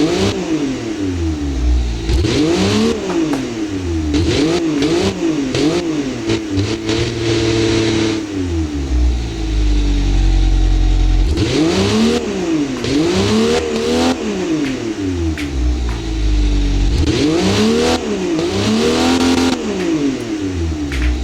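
A car engine in the Automation car design simulator game revs hard and repeatedly without a muffler, its pitch sweeping up and down in loud, raspy bursts with brief lulls between.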